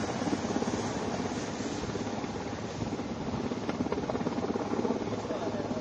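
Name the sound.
helicopter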